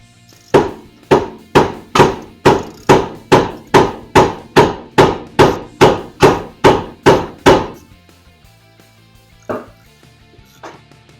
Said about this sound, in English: over there beating away at the other tie rod